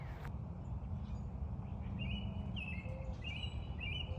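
Birdsong outdoors beside a swamp oak under a clear sky: several short chirps and whistled phrases at moderate distance, repeating over a steady low wind-like rumble.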